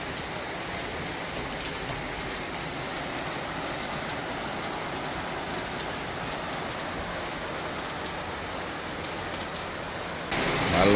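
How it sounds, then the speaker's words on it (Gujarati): Heavy rain with large drops drums down in a constant, close hiss without a break, and it swells a little louder right at the end. "તમે જોઈ શકો છો વરસાદ આવી રહ્યો છે"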